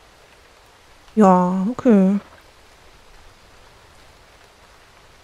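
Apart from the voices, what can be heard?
rain in video game This Land Is My Land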